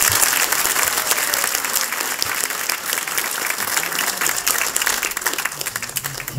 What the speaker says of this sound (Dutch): Dames en heren, mag ik u applaus voor Leontien Mensink.